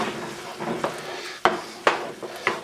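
Eggs beaten and stirred in a pan with a utensil, giving soft scraping and a few sharp clinks of metal against the pan, close and moderately loud, with no talking.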